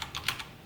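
A few quick keystrokes tapped on a computer keyboard while writing JavaScript onclick code for a JSP web page, light and close with no talk.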